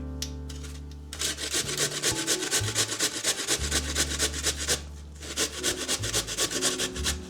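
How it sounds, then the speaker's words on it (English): Potatoes rubbed against the small holes of a grater, a rapid run of rhythmic rasping strokes close by that starts after a brief pause and continues steadily, with a low steady hum beneath. "Grate the potatoes from the small eye of the grater."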